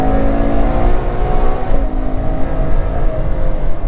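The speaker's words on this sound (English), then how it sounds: "This is a rear weight biased 800 horsepower V12" A Ferrari 812 Superfast's 800 horsepower V12 roars loud and steady under hard acceleration, a dense sustained engine note with no voices.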